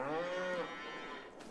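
Cattle in the Farming Simulator 22 game give one long, close moo that slides downward and fades, with no talk over it.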